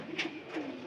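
A pigeon in a pigeon house gives two soft, faint coos in quick succession, quiet and alone without any voices.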